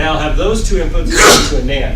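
A single sneeze bursts out in a classroom during a digital logic lecture, loud and close, with a lecturer talking over it.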